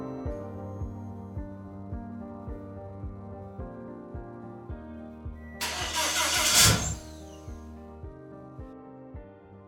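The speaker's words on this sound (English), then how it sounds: "So the main problem right now is it'll crank, but that's it." An Audi B8 TFSI engine with a built big-turbo setup cranks steadily without catching, the starter's rhythmic whirring chug running throughout with a brief louder hiss mid-way, loud and close with no talk.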